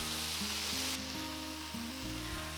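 Onions sautéing in a pan for pasta sauce, a soft, continuous sizzling hiss that sits under prominent background music.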